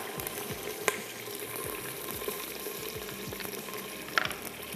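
Chicken pieces fry in a pot with onions browned to a deep red, giving a dense, steady sizzle and crackle. A few utensil knocks and stirring scrapes sound close by and no one speaks.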